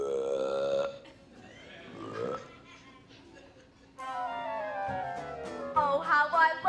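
A loud, drawn-out burp from a performer in a middle school stage production of Willy Wonka Jr, rumbling over several seconds with music playing underneath.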